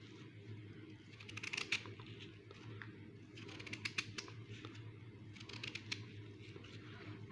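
A knife dices a large onion by hand while soup cooks, quick irregular clicking cuts in bursts, faint and close over a low background hum, with no talk.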